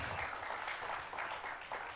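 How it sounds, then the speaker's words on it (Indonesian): A church congregation applauds, a dense, continuous wash of clapping from many hands that stays fairly even for about two seconds. "Beri tepuk tangan yang meriah buat Tuhan."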